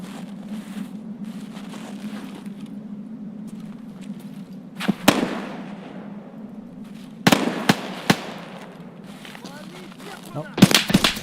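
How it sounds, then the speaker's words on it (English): Sharp gunshots crack in scattered bursts in a video game, a few single shots then quick clusters, over a low steady hum with faint voices in the background. "Trying to go after those gunshots."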